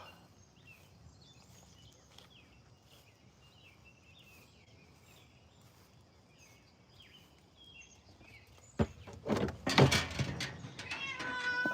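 A cat on a farm after a storm gives faint, short, high calls over quiet background noise, followed near the end by louder close rustling and knocking.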